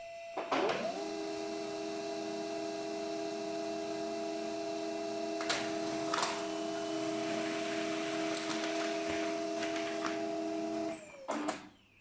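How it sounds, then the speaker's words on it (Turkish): A printer whirs steadily for several seconds with a constant mechanical hum, clicks starting and ending the run, and occasional brief rattles. "yazdırma işi yazıcıya gönderildi diye"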